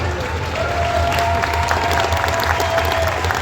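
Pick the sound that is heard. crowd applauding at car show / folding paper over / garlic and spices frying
crowd applauding at car show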